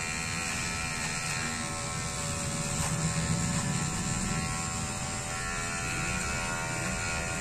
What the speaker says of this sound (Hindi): मैं ट्रिमर लगा दूंगा